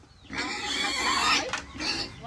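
Farm pigs squeal and grunt loudly up close in a village setting, one long harsh call followed by a shorter burst.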